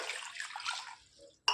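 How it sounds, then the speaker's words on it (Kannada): Water for tomato bath pours steadily into a cooking pot, a close, continuous splashing for about a second before it stops, followed by a brief clink. "2 ಕಪ್ ನೀರು, ಇದು ಬಿಸಿ ಮಾಡಲಿಕ್ಕೆ ಇಡಬೇಕು,"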